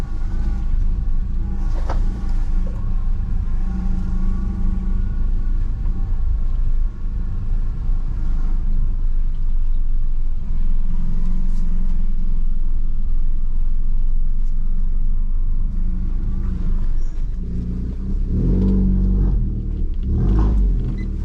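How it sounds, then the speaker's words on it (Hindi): A car creeps through a narrow street on the clutch alone, no throttle, its engine a low, steady idling rumble heard from inside the cabin, with faint clunks near the end. "खाली मेरी गाड़ी क्लच पे चल रही है, नो एक्सेलरेटर"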